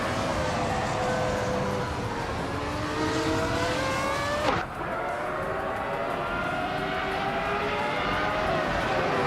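A 1995 Ferrari 412 T2 race car in a racing game, its high engine note climbing steadily through the gears, with a brief sharp whoosh as it passes midway, sustained and fairly loud.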